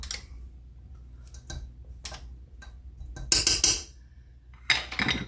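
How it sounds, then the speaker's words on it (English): A spatula is scraped and tapped against a mixing bowl while mixing buttermilk seeded bread dough, giving a series of short, clear clinks and taps spread across a quiet kitchen, with a brighter burst of scraping near the end. "So I'm going to clean off my spatula."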